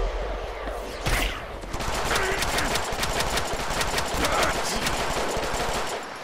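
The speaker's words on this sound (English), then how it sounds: "Machine gun!" Sustained rapid machine gun fire from the Deadpool video game, a loud dense burst after a sharp opening blast, then continuous rattling volleys for several seconds without pause.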